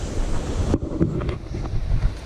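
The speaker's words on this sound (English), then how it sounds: "That wind certainly makes it feel close to that" Wind buffets the microphone on a bushwalk at Hanging Rock, a short burst of low rumbling gusts that cuts off abruptly and then leaves softer, uneven blustering.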